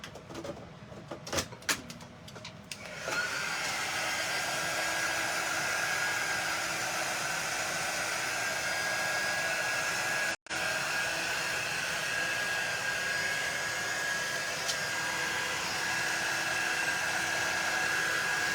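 A heat dryer blows a steady, loud whir over freshly inked fabric on a tote bag, kicking in after a few seconds of small clicks and handling sounds and running continuously with a brief cut-out partway through.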